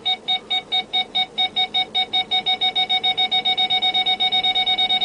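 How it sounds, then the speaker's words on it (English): A 2010 Nissan Armada Titanium's parking sensor beeps regularly, speeding up steadily until the beeps nearly run together into a continuous tone as an obstacle gets close. "The beeping will go faster when we get closer."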